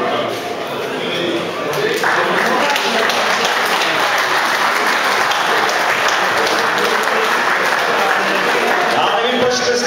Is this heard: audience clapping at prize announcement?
yes